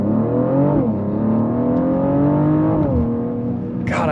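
A 2024 Mercedes-AMG GLE 53 engine building boost and accelerating, loud and close, its tone climbing through a gear change, then rising again into a second shift, with a short whoosh at the end and no talk.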